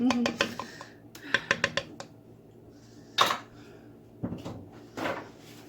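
Ingredients beaten together in a bowl, heard as irregular clinks and knocks of a utensil against the bowl with a few louder scraping strokes, close by, alongside some kitchen clatter.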